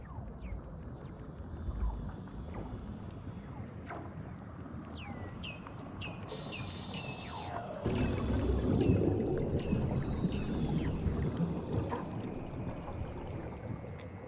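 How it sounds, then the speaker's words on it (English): Weddell seals call beneath Antarctic ice, sending eerie descending whistles and sweeping electronic-like trills that overlap one another over a low, rumbling underwater wash, with a louder swell partway through. "They're actually the calls of Weddell seals."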